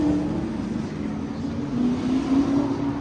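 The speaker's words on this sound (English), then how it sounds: "You hear the racing in the background." Historic original and restored race cars circle a 2.75-mile street circuit in Chattanooga, their engines droning steadily in the background with a rising whine as cars pass, moderately distant.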